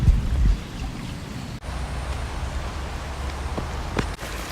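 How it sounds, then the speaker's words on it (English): Spring water flows steadily at a nature preserve, a continuous close rushing wash with a few light splashes, heard on its own with no voices. "The sound of the water is so peaceful."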